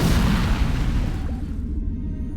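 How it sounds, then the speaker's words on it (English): EPS conduit explosion aboard a ship in Star Trek Online: a single loud, deep boom that bursts immediately and rumbles away over a couple of seconds, heard alone. "Set off EPS conduit explosion."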